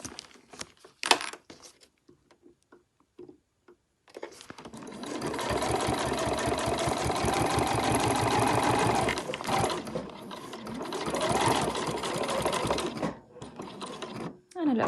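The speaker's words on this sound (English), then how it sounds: "I'm just sewing nice and close to the edge." A sewing machine stitches close to the edge of a fabric thread catcher, opening with a few short back-stitch bursts, then running in a steady, close-up mechanical whir for several seconds before pausing and starting again.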